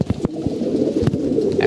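Pigeons coo in low, throaty, rolling calls close by, a continuous murmur with a few soft knocks and flutters mixed in.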